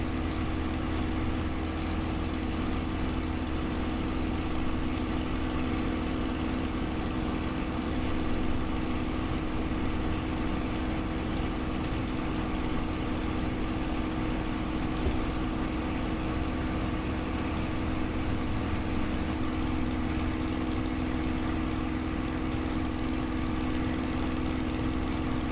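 A piston aircraft engine in Microsoft Flight Simulator runs at about 2650 RPM on 4 pounds of boost, giving a constant, loud, droning hum that stays steady with no talking.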